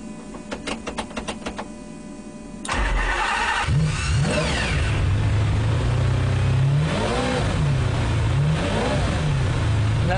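A stripped-out, race-spec McLaren F1 or Ferrari Enzo supercar: whirring clicks and pump priming, then the engine fires at about three seconds and settles into a loud, close, rough idle with repeated sharp revs, no talking.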